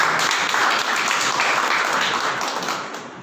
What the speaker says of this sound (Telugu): ఒకసారి దేవుని సన్నిధిలో చప్పట్లు దేవుని నామమున మహిమ